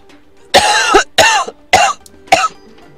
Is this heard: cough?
yes